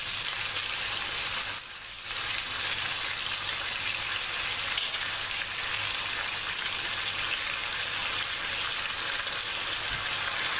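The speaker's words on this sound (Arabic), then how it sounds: "أقلي البصل مع الدجاج دائما مع التقليب من حين إلى آخر" Onion and chicken frying in a pan, a steady soft sizzle with a brief dip near the start as the food is stirred, no voices present.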